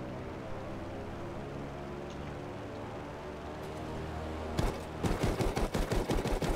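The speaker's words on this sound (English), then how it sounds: "Oh, I didn't even know I had this machine gun" Rapid machine-gun bursts from Battlefield V break in after a low rumbling lull, a quick run of sharp, loud shots repeating in tight succession near the end.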